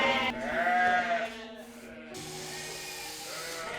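Sheep and lambs bleating on a UK farm in June, a couple of clear, fairly close bleats with wavering pitch followed by a softer, steadier call over a quiet background.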